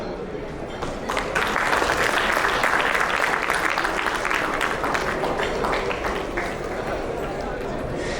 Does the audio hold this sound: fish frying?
no